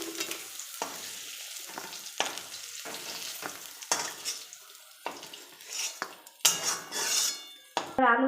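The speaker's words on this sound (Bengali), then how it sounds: "আলুগুলো ভেজে নিচ্ছি।" Potatoes fry in a pan with a low hiss while a metal spatula repeatedly scrapes and clanks against it, the stirring growing busier and louder toward the end, close by and without speech.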